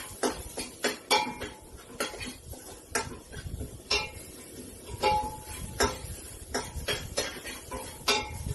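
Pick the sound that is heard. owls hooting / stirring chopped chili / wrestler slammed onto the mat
stirring chopped chili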